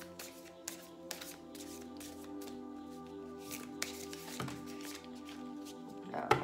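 Tao oracle cards being shuffled by hand, with a rapid run of soft riffling taps and flicks close by, some louder slaps, and a voice at times.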